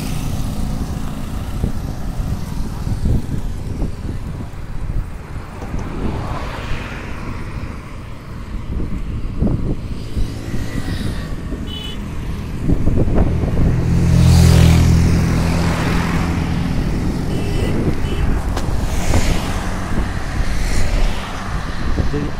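Vehicles pass along the NH44 highway near Gwalior in a continuous rumble of traffic, with engine noise building and a heavier vehicle droning louder past the midpoint.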